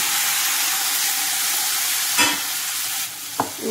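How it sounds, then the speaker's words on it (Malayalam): Tomato paste, ground fresh, hitting a hot pan for kabsa, with a steady loud sizzle and hiss, a few sharp spatters and a brief scrape of stirring near the end. "അതിലേക്ക് ഞാൻ ഈ അരച്ചു വെച്ച തക്കാളി പേസ്റ്റ് ചേർത്ത് കൊടുക്കുകയാണ്"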